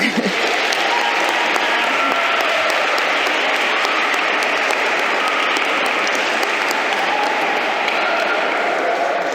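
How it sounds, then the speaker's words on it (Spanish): Loud, dense applause from an audience welcoming a poet at a library event, continuous and even from start to finish. "Pido un aplauso para ella"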